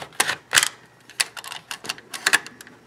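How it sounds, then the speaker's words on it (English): Plastic head piece of a third-party Maketoys Utopia transforming Metroplex robot toy ratcheting into place, a series of sharp, close clicks in irregular bursts with no talking. "this head piece ratchets up"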